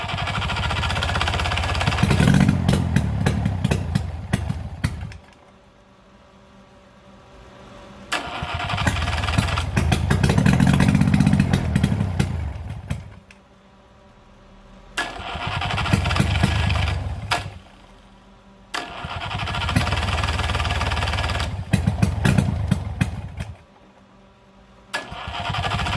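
Old two-stroke engine starting up and running in loud sputtering bursts, with several runs of revving separated by abrupt quiet gaps where it dies.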